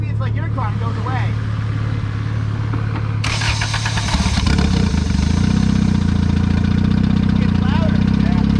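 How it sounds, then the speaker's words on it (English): A Honda Civic with a suspected rod knock idles close by, first a rough mid engine drone, then a sudden louder, harsher engine sound with a rapid knocking rattle, as a voice speaks briefly over it. "Yeah, I think it's rod knock."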